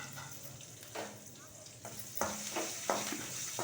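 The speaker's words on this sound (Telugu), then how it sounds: "ఇది ఎర్రగా వేపుతాను." A tempering of dried red chili, curry leaves and ginger pieces frying in oil for dal with fenugreek greens: a faint, steady sizzle with several soft spatula scrapes spaced through it, close but quiet.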